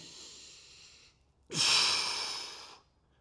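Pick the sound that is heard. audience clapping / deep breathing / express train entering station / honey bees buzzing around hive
deep breathing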